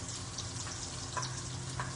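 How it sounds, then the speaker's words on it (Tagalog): Garlic browning in oil in a pan, giving a steady, even sizzle with soft crackles throughout, fairly quiet and close. "Medyo pababrownin lang natin yung garlic."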